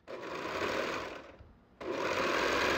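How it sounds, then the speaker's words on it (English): A sewing machine runs steadily while stitching spandex bikini strings, its fast whirring clatter close and loud, easing off briefly about halfway before starting up again at full speed. "Let's start sewing it together, starting with the strings."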